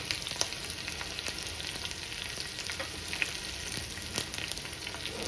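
Ginger and chilies fry in a pan for Punjabi chole, giving a soft continuous sizzle with scattered small pops and crackles, fairly quiet and steady, with no voices.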